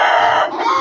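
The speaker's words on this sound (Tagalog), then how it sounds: "nag-alaga akong manok" A single chicken lets out a loud, close, crowing cluck in a coop, one short burst lasting under a second with no other sounds around it.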